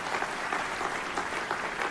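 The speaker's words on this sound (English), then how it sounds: "Let's give David a great round of applause if we could." A crowd applauds steadily at a NASA Langley building-naming ceremony, a dense, even wash of clapping from many hands that holds at a moderate level throughout.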